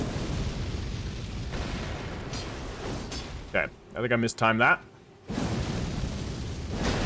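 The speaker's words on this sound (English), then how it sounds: "a strong attack to trigger a massive explosion" In Elden Ring, a strong attack sets off a massive Ghost Flame explosion, a loud rumbling burst that fills the clip, broken midway by a person speaking over a brief lull.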